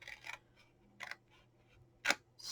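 Scissors cutting fabric for a stash-buster sewing project make a handful of crisp, quiet snips, close and irregularly spaced with short pauses.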